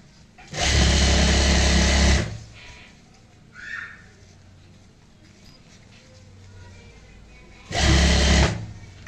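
Sewing machine stitching cloth for a handmade handbag, running in two loud steady whirring bursts, a longer one at first and a shorter one near the end, with quiet handling noise between.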